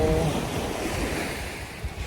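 Ocean waves surging at a free public beach by the sea, a constant roaring wash with gusty wind buffeting the microphone, close and full, no one speaking.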